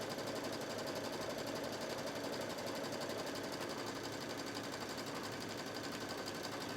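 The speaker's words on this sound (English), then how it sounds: "I threaded the machine with the green because that's the first thread that I'm going to be using." An embroidery sewing machine stitching with green thread hums in a fast, even, continuous rhythm, close and steady throughout with no pauses and no talking.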